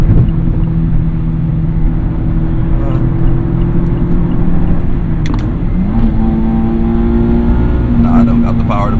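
A 2020 Mazda Miata RF on the road gives a steady, loud engine drone from inside the cabin, with the revs stepping higher partway through and climbing again near the end.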